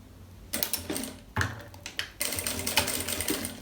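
A sewing machine runs a seam along a plastic pouch for headphones and a charger, stitching in short rattling bursts that start and stop, loud and close, with no talking.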